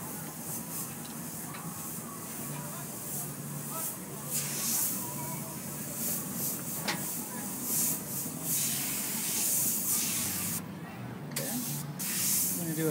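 Steady airbrush spray hissing through most of the stretch, with brief pauses and bursts, under quiet background noise.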